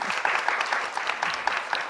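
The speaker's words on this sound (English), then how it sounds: "a round of applause to all the leaders in the room" An indoor audience at a panel discussion on education claps in a steady, dense round of applause, moderately loud and sustained.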